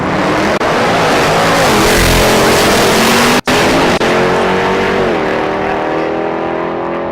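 A Camaro drag car launches down the right lane at the SRCA Dragstrip, its loud engine roaring continuously and rising in pitch, with a momentary cutout partway through.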